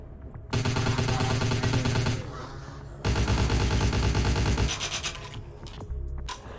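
Gunfire in Vampire The Masquerade: Bloodlines, two loud bursts of rapid automatic shots, each lasting a couple of seconds, with a short gap between them and a weaker tail at the end.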